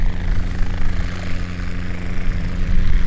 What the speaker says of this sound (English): that helicopter's just about to take off and make some more noise